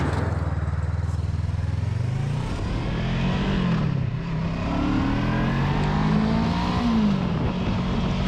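Voge 500DSX adventure motorcycle engine pulling from low speed in a higher gear, a steady loud drone that rises and falls in pitch as it accelerates, heard alone without talk.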